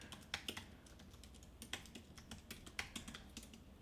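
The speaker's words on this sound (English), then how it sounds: "you can write a customized message here, testing out the super thanks feature" Fingers type a short message on a computer keyboard, an irregular run of crisp, close key clicks with small pauses between bursts, no voices.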